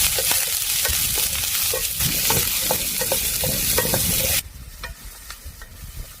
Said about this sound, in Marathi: कांद्यामध्ये तेल घालून आपल्याला लालसर रंगापर्यंत कांदा परतून घ्यायचा आहे.